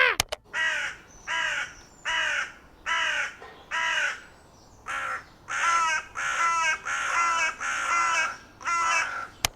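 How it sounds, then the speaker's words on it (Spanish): A carrion crow gives a steady series of about ten harsh, evenly spaced caws, each fairly long, moderately loud and alone without other sounds. "Vamos a escuchar cómo suena la corneja."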